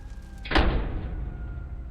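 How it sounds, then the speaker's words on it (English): A door swung shut with one heavy, close thud, followed by a low fading rumble of room noise. "Close the door."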